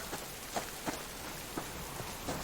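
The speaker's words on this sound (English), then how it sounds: "And here's the rain, as I suspected." Rain falls in a cold hillside survival video game, a dense steady patter on surfaces with a few louder drops landing close by.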